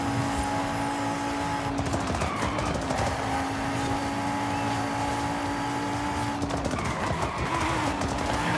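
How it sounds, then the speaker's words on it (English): Cupra Formentor VZ5 Concept 2021 spinning its wheels in a Forza racing game, a steady high engine drone with squealing tires and a rising whine, loud and continuous throughout. "It's having an insane wheel spin."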